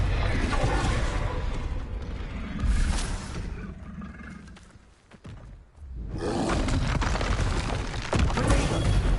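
A loud, roaring Confringo explosion spell blast in the Hogwarts Legacy video game, a booming burst near the start that swells again after a brief lull, dense and close with crackling debris.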